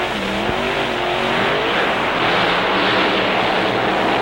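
AA dragsters, two of the country's best lined up side by side, roaring down a drag strip; a loud, continuous, broad engine roar fills the whole stretch with no talk over it.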